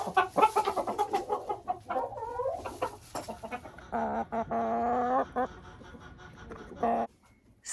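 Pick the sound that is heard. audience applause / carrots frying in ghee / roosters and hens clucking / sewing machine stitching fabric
roosters and hens clucking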